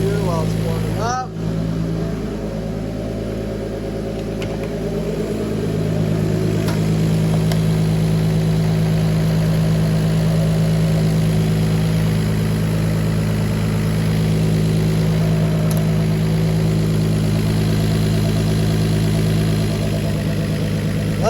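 Turbocharged BMW M50 engine idles steadily while warming up, a loud, even hum with a low throb that holds throughout, and a person speaks briefly near the start.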